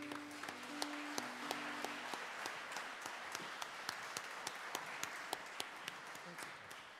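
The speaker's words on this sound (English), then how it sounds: "Clap for me." Congregation clapping at a church carol concert, a faint steady patter with sharper individual claps standing out, and a sustained tone fading in the first two seconds.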